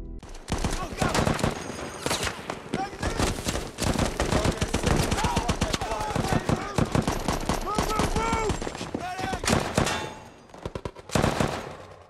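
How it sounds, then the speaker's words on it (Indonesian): Heavy gunfire in a film shootout between a Navy SEAL team and the enemy, rapid bursts of automatic fire and single shots crackling loudly and nearly without pause, with a narrator speaking over it. "Dengan cekatan mereka mengatur strategi menuju gedung tempat Eric sambil baku tembak dengan musuh"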